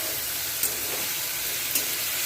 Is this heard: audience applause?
no